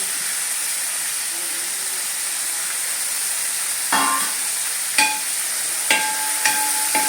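Garlic and crushed ginger sautéing in a pan for Angamaly-style beef, a steady close sizzle broken by several sharp scrapes and clinks of a stirring spoon.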